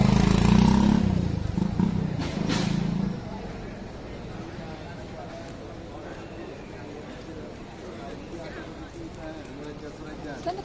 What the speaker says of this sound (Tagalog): May motor, may motor.